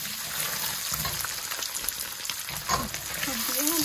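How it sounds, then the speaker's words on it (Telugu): Eggs frying in hot oil with masala, pepper, chili powder and salt, giving a steady close sizzle with stirring scrapes and small bubbling pops throughout. "గుడ్లన్నీ ఇలా ఆయిల్లో వేసి వేయించుకోవాలండి"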